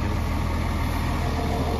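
A tractor engine idles steadily during hay wrapping, a constant low rumble with a faint high whine, close and unbroken, with no talking.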